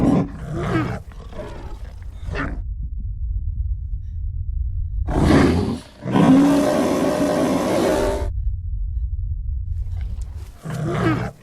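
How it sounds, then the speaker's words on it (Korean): A bear roars and growls in bursts while eating a person, with loud, close, guttural roars separated by silent gaps and heavy breathing, and no talk. "그렇게 알렉스는 산채로 곰에게 뜯어먹혔습니다"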